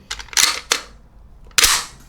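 Sharp mechanical clicks and snaps from a Heckler & Koch SP5 pistol's trigger and action, a few quick close clicks followed after a short pause by one more crisp snap, with no talk over them.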